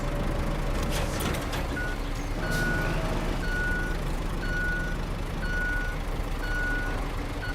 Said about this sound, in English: Oh no, I can hear a truck coming behind me.